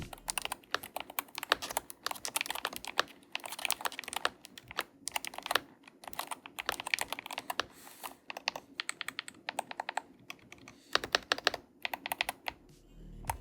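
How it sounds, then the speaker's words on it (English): Typing on a Corsair Vanguard Pro 96 keyboard with magnetic switches, straight out of the box: rapid, close clacking keystrokes in bursts and short pauses, alone with no talking. "Here's a quick sound test of the keyboard right out of the box."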